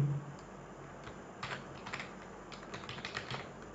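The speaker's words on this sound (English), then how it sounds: "here give some title give some title here I'm typing" Keystrokes on a computer keyboard, tapped irregularly in short bursts, close and fairly quiet against a low hum, with no voice.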